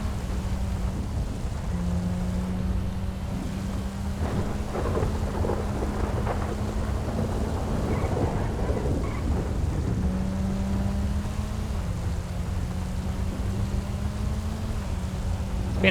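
Steady rain with rolling thunder in a GTA V racing game, a dense continuous wash of rainfall under low rumbles, with a steady tonal engine drone running through the storm.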